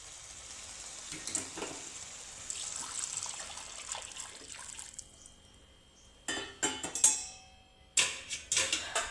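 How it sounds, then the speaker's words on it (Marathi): Hot water poured into a pot of drumstick curry with spice masala, a steady splashing pour for about five seconds, followed by a few louder clinks and knocks of utensils against the pot. "आता यात गरम पाणी टाकू."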